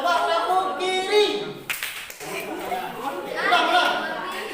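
Students in a classroom clap on a classmate's left hand, a burst of taps and claps mixed with a teacher's voice and children's chatter.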